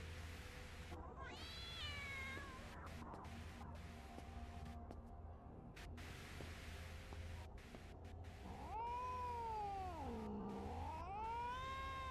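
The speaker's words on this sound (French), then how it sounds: "Il y a un autre chat là." A cat meows repeatedly in the horror video game Frightence, with several drawn-out, wavering cries that rise and fall over a low, steady ambient hum and some game noises, with no talk.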